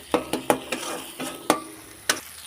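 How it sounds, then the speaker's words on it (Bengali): Spice paste for a fish curry sizzles in a pan while a utensil stirs it, with sharp knocks and scrapes at irregular intervals over a soft frying hiss. "মশলাটা ভালো করে ভাজা হয়ে গেছে"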